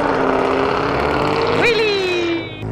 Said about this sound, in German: Wie laut war die Karre denn?